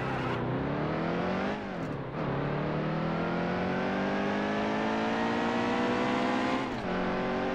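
NASCAR race car engine in the game Nascar Heat 2 at Michigan, loud and close, climbing in pitch through several gear shifts with brief dips between rising revs.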